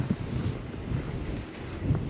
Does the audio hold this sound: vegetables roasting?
no